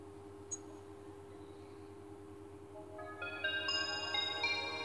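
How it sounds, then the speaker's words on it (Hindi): A mobile phone plays its startup tune after being powered on, a faint rising run of electronic tones that begins after a few seconds of quiet electrical hum and carries on to the end. "अब मोबाइल को मैं पावर ऑन कर रहा हूँ।"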